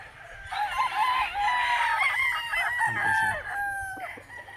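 A gamefowl rooster, an LDT Boston Millionaire, crows loudly and close by in one long, drawn-out call that breaks into a few rough clucks toward the end, with no voices over it.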